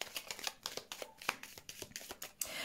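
A deck of tarot cards is shuffled for a reading, giving a quick, close run of soft riffling flicks with no talk.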